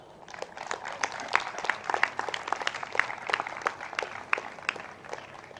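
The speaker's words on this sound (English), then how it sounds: "I would want to give a big round of applause to Julie here" Scattered, moderately faint applause rises from the audience at a MICA convocation, with individual claps standing out in an uneven rhythm over several seconds.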